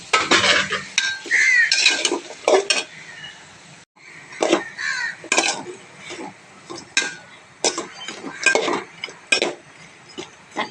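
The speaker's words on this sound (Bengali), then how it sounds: "এখন আমি এর ভিতরে কেটে রাখা এই আমড়াগুলো দিয়ে দেবো।" Chopped hog plums tipped into a pot of cooked-down masala and stirred, with repeated close scrapes and clinks of a spoon against the metal pot in uneven bursts, and a brief pause partway through.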